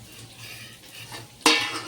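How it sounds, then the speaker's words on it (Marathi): A spoon scrapes and stirs a besan zunka mixture of gram flour, turmeric and coriander in a pan, with soft scraping followed by a sharp metallic clink against the pan near the end. "छान मस्त मिक्स करून घेऊया"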